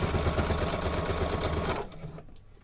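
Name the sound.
sewing machine stitching a fabric face mask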